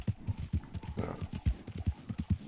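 Horse hooves clopping in a steady, rapid rhythm while riding inside a stable in Red Dead Redemption 2, fairly close and moderately loud, with faint background game sounds.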